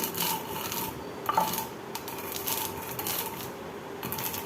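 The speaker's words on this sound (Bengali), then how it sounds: "ডালগুলো যেন একদম গুঁড়ো না হয় শুধু খোসাটা করে আলাদা হবে" Dry kulthi dal (horse gram) rubbed gently by hand to loosen the husks, giving a steady soft gritty rustle with small crackling bursts, close and continuous, with no talking.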